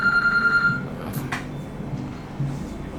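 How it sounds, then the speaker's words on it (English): A telephone rings with a short, steady electronic tone at the start, then cuts off, leaving a quiet room hum with a soft thump and faint background noise. "Your phone ringing?"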